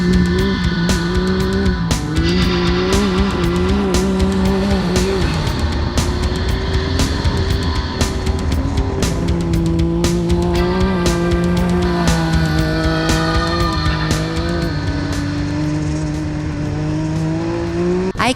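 A race car from Lonestar Racing in Arizona drives hard, its loud engine droning and shifting pitch continuously while tires squeal, up close with no talking.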